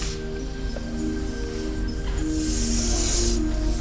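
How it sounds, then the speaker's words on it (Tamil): A snake hissing steadily and loudly up close, a continuous breathy hiss that swells stronger toward the end, with no talking over it. "அந்த ஹிஸ்ஸிங் சவுண்ட் ரொம்ப ஜாஸ்தி விட்டுட்டு இருக்கு இந்த பாம்பு."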